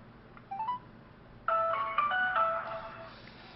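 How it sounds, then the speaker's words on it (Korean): A phone's ringtone tone plays while a call is being placed during a casual after-party livestream, a short electronic melody with a brief chirp first, then a louder run of sustained tones. "전화 좀 할게요 잠시만요."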